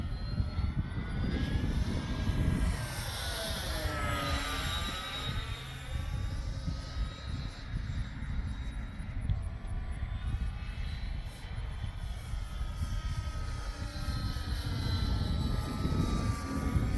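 A Dynam ME BF-109 radio-controlled model warplane drones steadily overhead for the whole stretch, its electric motor whine rising and falling in pitch with Doppler sweeps as it passes, over a constant rush of strong wind.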